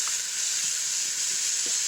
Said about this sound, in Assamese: ভাতকেৰেলা আৰু কঁঠাল গুটিখিনি মই অলপমান ভাজি ল'লোঁ